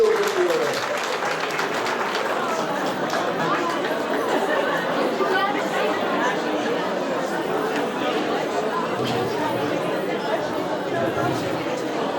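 Thin, sparse applause at an award ceremony honouring women of the year runs steadily for about twelve seconds, mixed with crowd chatter and murmuring voices throughout.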